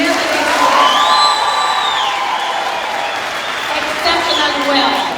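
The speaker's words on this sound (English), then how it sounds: "please give yourselves a huge round of applause for what you have done" Youth participants at the closing of a youth indaba applaud and cheer themselves, a sustained crowd roar of clapping with whoops and high shouts rising over it, loud and continuous throughout.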